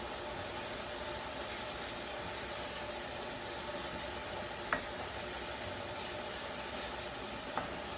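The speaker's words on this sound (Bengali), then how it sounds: "এখানে আমি কিছু আস্ত রসুন দিয়ে দেবো রসুনটা কষ্ট থাক" Whole garlic cloves fry in hot oil with a steady, even sizzle that runs throughout, broken by a couple of faint clicks near the end.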